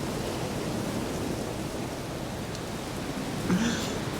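Steady, even rain hiss fills the scene in the video game The Witcher 3, moderately quiet, with a faint brief tonal sound near the end.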